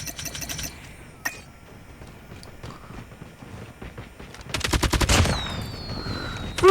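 A fireworks death effect in Call of Duty gameplay produces rapid crackling pops. They start as faint scattered bursts and build to a dense, loud rattle near the end.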